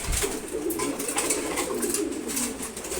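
Pigeons at a pigeon farm, paired birds kept in a loft, keep up soft, overlapping low coos, a steady continuous murmur that is fairly close, with no talking.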